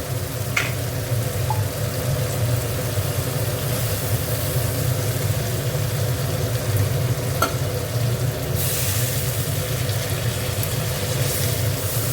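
A paste of cashews, chilli powder and turmeric fries with a splash of water in a pan for fish curry, giving a steady, even sizzle and bubbling with a few brief clinks.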